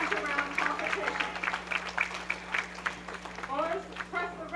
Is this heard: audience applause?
yes